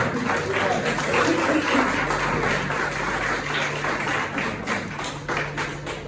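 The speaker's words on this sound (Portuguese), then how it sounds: "Se assente aplaudindo o Senhor" A church congregation applauds, a steady wash of many hands clapping at moderate distance, fairly soft, with voices mixed in underneath.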